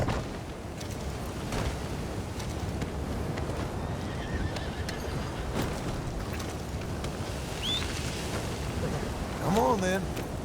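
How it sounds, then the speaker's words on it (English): Horse whinnying with hoof clip-clop in the Red Dead Redemption 2 video game, heard over steady wind and outdoor ambience, the neigh rising near the end of the clip. "Who's a good horse?"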